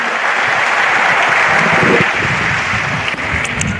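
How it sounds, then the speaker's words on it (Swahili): A church congregation claps for Jesus at a healing service, dense sustained applause filling the room for several seconds at close, loud level. "Ukiamini pigie Yesu makofi"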